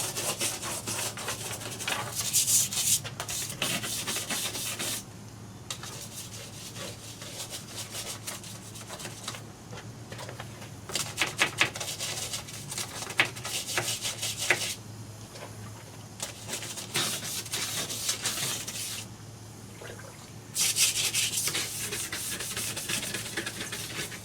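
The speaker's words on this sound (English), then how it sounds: "I mixed up a little of that spick and span so I can scrub this bottom edge here" Scrubbing the bottom edge of a window with a Spic and Span cleaning mix, a rough rubbing scrape in repeated strokes separated by brief pauses, close and moderately loud, with no talking.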